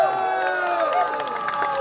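Wedding ceremony guests raise a lively crowd cheer with overlapping excited voices, steady and fairly loud throughout, with only faint traces of clapping underneath.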